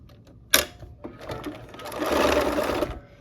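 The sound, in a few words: sewing machine stitching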